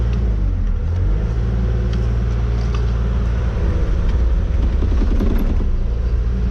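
A Kubota U48-5 excavator's diesel engine held at raised idle, a steady loud low rumble that continues unbroken from start to end, with faint mechanical ticks on top.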